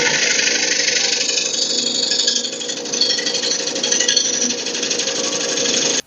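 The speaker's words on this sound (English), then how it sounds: "I've only got the base in the lathe right now. So I'm going to flatten the bottom just like we did with the tenon" A wood lathe flattens the bottom of a bowl base, making a loud, continuous rough grinding whir close by that holds steady and then cuts off abruptly at the end.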